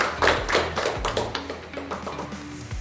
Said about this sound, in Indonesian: Silakan tepuk tangan untuk Dila.